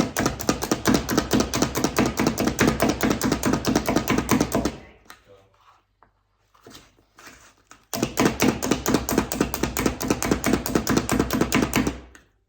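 A knife chops onions on a cutting board in rapid, even taps, close and crisp, pausing for a few seconds before the quick rhythmic chopping resumes.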